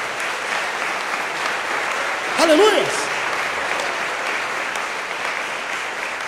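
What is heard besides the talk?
applause in church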